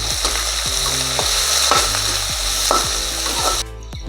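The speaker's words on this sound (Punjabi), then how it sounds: "ਹੁਣ ਆਪਾਂ ਇੱਕ ਪਿਆਜ਼ ਪਾ ਦਾਂਗੇ ਇਹਨੂੰ ਲੰਬਾਈ ਦੇ ਵਿੱਚ ਕੱਟਿਆ ਹੋਇਆ" Lengthwise-sliced onion fries with whole spices in a pan for masala pulao, giving a loud, continuous sizzle broken by regular scraping stirs about every half second, up close.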